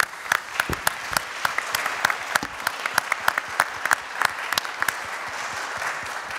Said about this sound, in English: je pense qu'on peut vous applaudir chaleureusement tous les trois